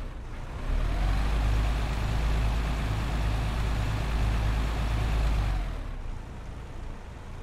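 Bus engine in the OMSI 2 driving simulator, a Volvo B8RLE or B7RLE, rumbles with a deep, steady low grumble at close range, then drops away abruptly near the end; no talk.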